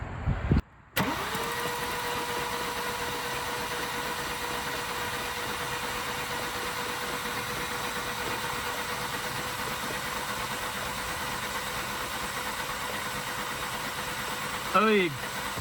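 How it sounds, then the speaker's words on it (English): A Mazda 3 2.2 Skyactiv engine, under injector testing, cranks briefly, catches, and settles into a steady, continuous idle that runs on at moderate loudness, with a short louder burst near the end. "I'll ask my brother-in-law to turn the car over to crank it"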